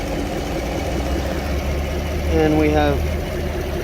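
A 2015 Chevrolet Camaro with a hard-shifting, limp-mode transmission idles steadily, a low continuous engine hum that swells slightly partway through while someone talks over it.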